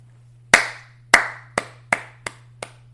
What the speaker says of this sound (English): I feel like that deserved just a little bit of a clap because that was insane